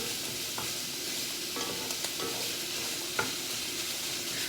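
Red meat tossed into a pan of half-cooked Italian sausage for lasagna, a steady sizzle of frying with stirring scrapes and a few sharp clinks over it, close and fairly quiet, no talk.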